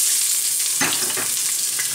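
A sliced onion hits hot olive oil in a sauce pot and sets off a bright, loud sizzle that stays steady for a couple of seconds, with a few stir scrapes.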